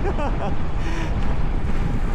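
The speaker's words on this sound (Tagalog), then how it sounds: "sobrang lakas ng hangin" Strong wind buffets the microphone during a bicycle ride, a continuous rumbling roar with gusty swells, while a voice speaks briefly over it.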